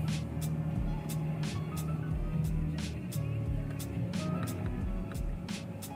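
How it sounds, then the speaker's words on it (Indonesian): Engine of a 2013 Toyota Camry 2.5 G automatic idling steadily after start-up, a continuous low hum with faint ticks and broadband noise, heard close and alone. "kita udah start up untuk engine-nya"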